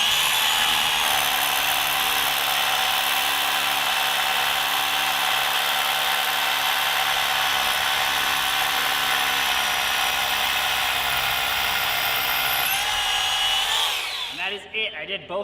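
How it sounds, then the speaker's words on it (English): Power drill boring anchor holes into concrete at a Quonset hut, a loud continuous high whine held steady for about thirteen seconds, then winding down and cutting off with a few rattles. "I'm gonna let this drill just speak for itself."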